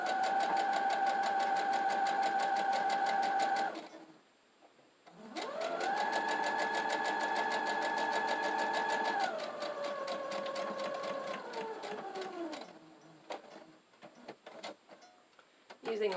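A sewing machine runs a straight stitch along the edge of a quilt-as-you-go mug rug, humming and ticking in fast steady bursts, pausing briefly near four seconds, then slowing and stopping with a few clicks near the end.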